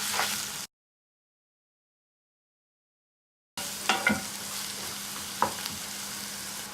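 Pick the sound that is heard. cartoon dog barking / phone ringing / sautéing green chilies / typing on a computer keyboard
sautéing green chilies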